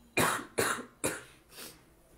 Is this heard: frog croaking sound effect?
no